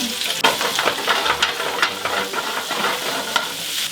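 Meatballs searing in a hot frying pan, a steady dense sizzle with occasional scraping as they are turned, close and loud, no talking.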